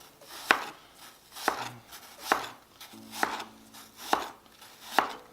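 Knife slicing apples into thin, even pieces on a cutting board for cinnamon apple tarts: six crisp chops spaced about a second apart, close and clear, with no talk.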